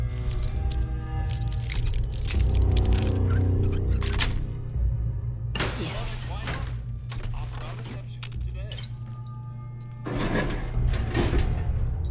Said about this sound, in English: Oh, look at this. It's a working elevator.